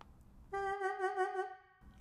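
A lone VHorns saxophone sample note with vibrato present from the very start, bright and close, lasting about a second before fading out.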